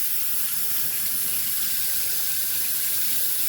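Water runs steadily from a kitchen tap as salt is rinsed off food, in one continuous close hiss with no talking.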